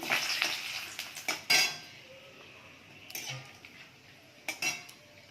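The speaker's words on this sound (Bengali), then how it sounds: "তেল গরম হয়ে গেছে, গরম মশলা দিয়ে দিন, এলাচ, দারচিনি, তেজপাতা" Whole garam masala spices (cardamom, cinnamon and bay leaf) drop into hot oil and fry with a steady close hiss, punctuated by a few metallic clanks of a pan or spoon; no voices.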